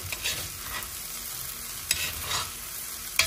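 Sago upma is stirred in a frying pan, with a soft, low sizzle under repeated scraping strokes and occasional sharper clinks of the utensil against the pan.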